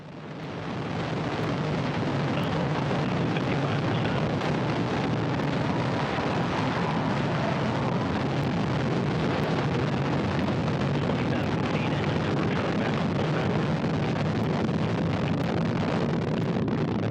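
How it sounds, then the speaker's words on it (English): Orbital ATK Antares rocket lifting off with the Cygnus resupply ship, a steady, dense broadband roar that swells in the first second and holds loud and unbroken for the rest of the stretch. "Orbital ATK's Antares on its way."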